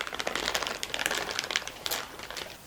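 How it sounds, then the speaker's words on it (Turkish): Baking paper crinkles and rustles as it is peeled off an oven dish of meat and vegetables, a close, soft run of crackly handling sounds with no talk. "Ve pişirme kağıdını çıkarıyorum."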